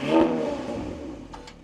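An Audi Q5 engine revs up close, a loud mid-range roar that builds early and then holds steady before easing slightly near the end.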